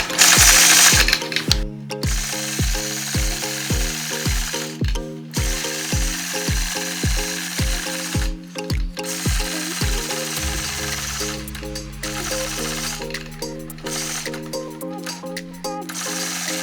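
A sewing machine quilts stitch in the ditch on a plaid quilt, its needle hammering in a fast, steady mechanical rhythm that stops briefly and resumes, close and loud with no talk.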